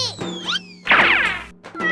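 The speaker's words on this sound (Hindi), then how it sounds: "देख मेरी बिल्ली, चिंकी गिर गई" Cat meowing loudly as it falls, close-up rising and falling cries with a sudden harsh yowl in the middle, ending in a short final meow.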